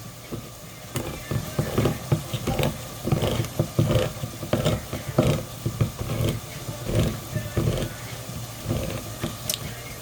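A manual can opener grinds around the rims of food cans for chili, with repeated clicking, ratcheting turns and metallic crunches, close and moderately loud, no talking.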